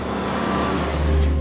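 A six-cylinder truck engine accelerates, a continuous low, throaty drone that holds steady and swells slightly louder toward the end, close and without voices.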